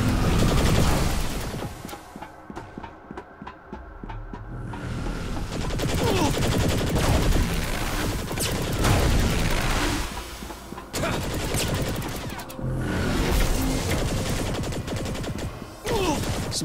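Loud, dense bursts of cannon fire and explosions in Saints Row The Third Remastered, rapid and relentless, with a brief pause before the barrage resumes and continues.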